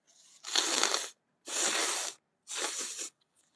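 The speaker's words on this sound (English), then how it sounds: "I need to blow my nose." Three forceful nose blows in a row, each a harsh breathy honk lasting about half a second, close up with short pauses between.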